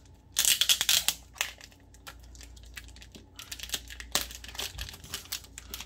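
Plastic packaging around an XP-Pen Artist Pro 16TP pen display is crinkled, crushed and torn by hand in loud bursts of sharp crackling, with quieter rustling in between.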